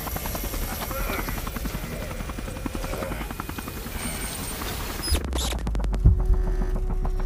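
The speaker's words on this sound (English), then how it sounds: "I can have a fight on a helicopter." A helicopter in the RoboCop: Rogue City video game chops with a rapid, steady rotor beat under game sounds and talk, then cuts abruptly to a deeper, louder thrum.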